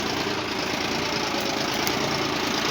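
A Solis 40 hp tractor engine drones steadily and loudly while pulling an MB plough through a field, a rough continuous rumble with no breaks and no voices.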